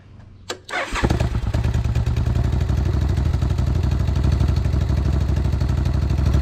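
An old motorcycle with the choke on kicks over after a short thump and catches, settling into a loud, steady, clattery idle close up, its exhaust leaking, with no voices.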